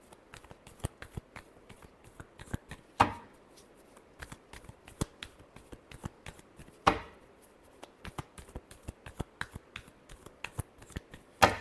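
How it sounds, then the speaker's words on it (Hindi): Tarot cards being shuffled by hand, a steady run of quick soft riffling clicks with two sharper bridge-like bursts standing out, close and fairly quiet, with no talk over it. "last shuffle"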